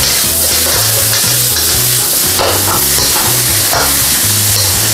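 Yakisoba-style Indomie noodles with tonkatsu sauce stir-fried in a pan, loud close sizzling broken by repeated scraping strokes of the spatula in a regular rhythm, with no voices.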